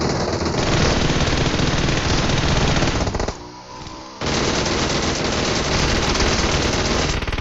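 A DP-28 machine gun fires in a PUBG Mobile match, loud dense bursts of gunfire running almost continuously, broken by one brief pause of about a second before the shooting resumes, with no talking.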